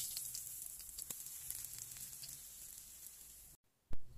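Mackerel fries in hot oil with a steady, bright sizzle and scattered crackling pops, close and continuous. The sizzle cuts off abruptly near the end, followed by one short knock.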